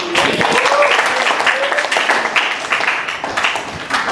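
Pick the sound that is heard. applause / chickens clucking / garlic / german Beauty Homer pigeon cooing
applause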